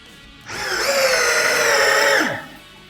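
A Parkside 12V cordless drill drives a screw, its motor whining up steadily for nearly two seconds under load before winding down and stopping, close and loud.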